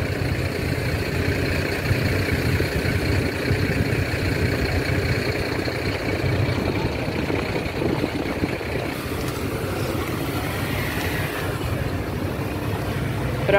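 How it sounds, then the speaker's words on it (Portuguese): A car drives off a river ferry crossing to Sergipe, its engine idling and rumbling steadily under constant low-frequency noise for over a dozen seconds, with no speech. "Agora aqui tá saindo o carro."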